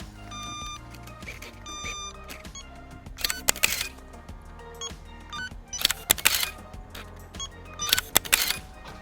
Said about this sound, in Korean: 들리시나요? 요 셔터